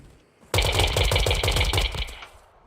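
Turrets fire at an enemy in the Once Human video game, a loud, rapid, evenly spaced burst of automatic shots that starts abruptly and trails off after about a second and a half.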